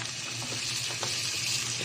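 Garlic and tomatoes sizzling in a pan for okra curry, a steady, bright, hissing fry that runs unbroken and close throughout, with no talking.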